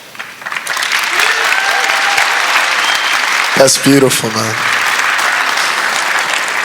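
An audience applauds steadily through the whole stretch at a press event, a broad wash of clapping with a voice speaking briefly over it partway through.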